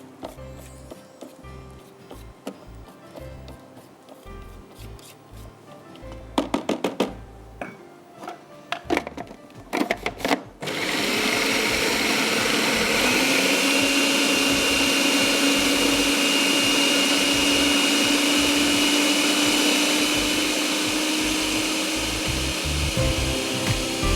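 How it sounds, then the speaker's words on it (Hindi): A hand blender whirs loudly and steadily through dal being ground for chicken samosa, starting after some clinks of utensils and continuing close and unbroken to the end. "Okay, now you have to blend this dal very well."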